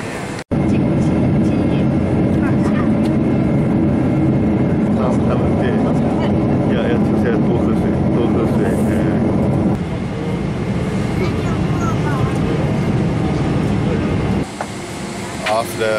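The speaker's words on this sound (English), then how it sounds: "Now I've boarded on the airplane for Los Angeles." Inside an airplane cabin on a long flight to Los Angeles, a loud, steady broadband roar of engines and air fills the whole stretch, shifting slightly in tone partway through.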